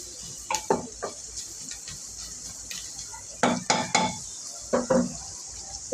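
Onions frying in a pan until crisp give a steady, bright sizzle throughout, broken by several sharp metallic clinks and scrapes of stirring, mostly in two clusters near the middle and end.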